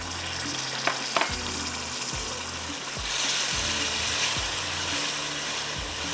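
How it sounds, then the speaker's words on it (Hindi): Yogurt goes into a hot pan for a fish salan, giving a loud, close, continuous sizzle that swells after a few seconds, with occasional clinks of a utensil against the pan. "यहाँ पर अब हम डाल देते हैं दही"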